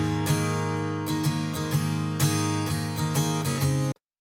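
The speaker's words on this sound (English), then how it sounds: "So I started off with a simple acoustic guitar loop." A simple acoustic guitar loop of plucked, ringing chords with regular strums and sustained notes, played alone and stopping abruptly at the end.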